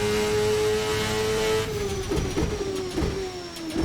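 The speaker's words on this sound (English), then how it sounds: "Absolutely monstrous car, so much power, so much speed." A Formula NA 1999 race car from the Assetto Corsa racing game screams at high revs around Laguna Seca, a steady loud engine note that drops through gear shifts with sharp bursts partway through.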